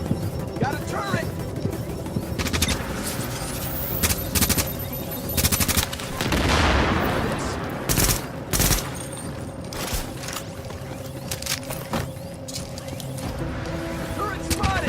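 Automatic turret gunfire in The Division on PS4 during a boss fight: dense, loud bursts of rapid shots with short gaps, mixed with other game noise and brief spoken lines.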